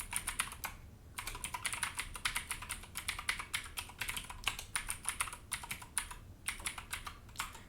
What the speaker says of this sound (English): enter our email address